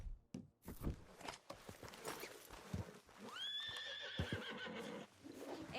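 Horse in Red Dead Redemption 2 whinnying in a rising, quavering neigh amid clip-clopping hooves and scattered footsteps, close and clear.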